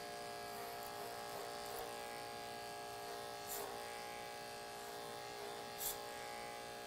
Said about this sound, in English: I'm laying the clipper flat on the comb